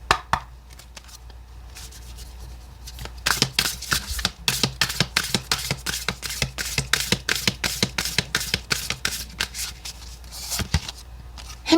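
Oracle cards are shuffled by hand in quick, rhythmic riffles and taps, a close run of crisp papery bursts that builds into a steady pattern over quiet room tone.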